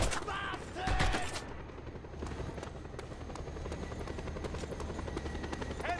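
A helicopter in the video game Just Cause 2 drones with a steady rotor whir, punctuated early by a short burst of gunfire, then continuing as a constant buzzing hum.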